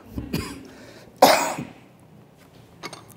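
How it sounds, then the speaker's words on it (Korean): A single sharp cough from a throat cold bursts out close and loud in a quiet room, with a few fainter throat sounds before and after. "지금 제가 목이 간질간질하고 기침하기 직전인데 꾹꾹 참고 일을 하고 있어요"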